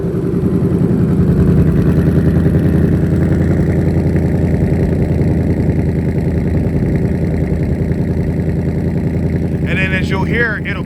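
A 2024 Ford Mustang GT S650 V8 rumbles at a steady, loud idle up close after starting, a dense low throb holding for about ten seconds.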